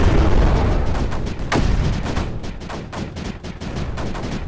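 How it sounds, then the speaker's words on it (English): Missile fire in a space combat video game: a loud, dense barrage of booming launches and blasts that rolls on continuously, with rapid repeated bursts throughout. "Missile fire."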